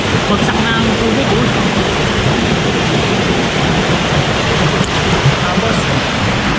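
Eva Falls waterfall crashes down in a loud, continuous roar of falling water, a dense unbroken wash of sound heard from close by with no pauses throughout.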